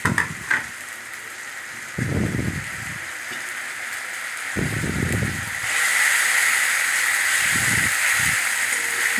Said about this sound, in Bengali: টমেটো বাটা আদা আর কাঁচা লঙ্কা বাটা দিয়ে মশলাটাকে ভালো করে কষাতে হবে